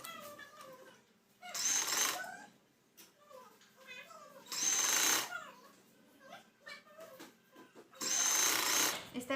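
Sewing machine running in three short bursts while stitching the narrow folded edge of a frill on a baby frock. Quieter pauses in between carry faint voice-like tones.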